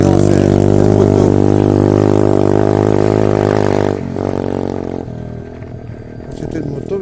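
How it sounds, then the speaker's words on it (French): A motocross motorcycle passes close by, its loud, steady engine drone filling the first four seconds before dropping away and fading into quieter background noise. "C'était une moto, mais ça fait beaucoup de bruit ces motos."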